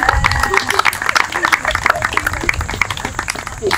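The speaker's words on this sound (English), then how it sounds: "we ask that you applaud or blow bubbles as Debbie's children, Ishani and Sharbani." Applause and scattered clapping from a small outdoor crowd at a ribbon cutting for a little free food pantry, steady and fairly close for a few seconds, with voices mixed into the clatter.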